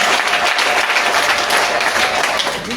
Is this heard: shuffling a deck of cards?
no